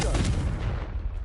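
A Confringo fire spell blast in Hogwarts Legacy, a loud booming burst that decays over about a second with rumbling low end, no talk over it.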